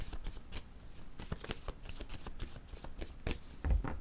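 Oracle cards shuffled and drawn by hand: quick, close, papery riffles and flicks in irregular bursts, with a soft thud near the end, quiet and without talk.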